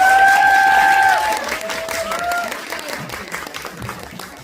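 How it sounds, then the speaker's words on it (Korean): An audience in a CGV Art cinema hall in Myeongdong applauds at a library talk for the film 천국은 없다 (There Is No Heaven); the loud clapping swells, then gradually fades with scattered claps and faint voices. "여러분. 박수 한번 주세요"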